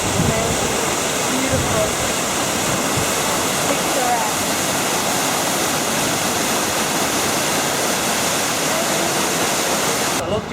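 A waterfall heard from above roars as a loud, steady rush of falling water that fills the whole clip, and a voice speaks briefly over it.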